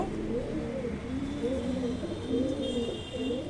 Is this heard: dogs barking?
no